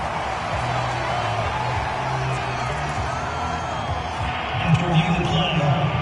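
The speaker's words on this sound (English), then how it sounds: "Plenty of shouts from this crowd as they watch the replay." Football stadium crowd during a replay review, a broad continuous roar of shouting voices that swells louder near the end, with commentators talking over it.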